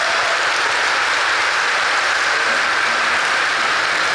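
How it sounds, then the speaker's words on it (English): A large audience at the Final Fantasy XIV Fan Festival in London applauds continuously, a dense, loud, unbroken wash of clapping filling the hall with no voices standing out. "look at the enthusiasm in that applause"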